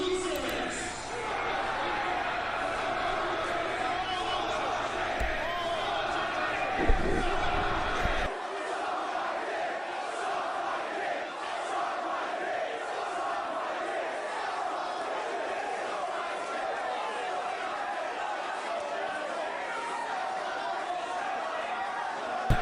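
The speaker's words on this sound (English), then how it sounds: "there's nothing like an ECW crowd, bro. Listen to that shit." ECW wrestling crowd roars and chants continuously at arena volume for over twenty seconds, a dense steady wall of voices with a slight shift in tone partway through.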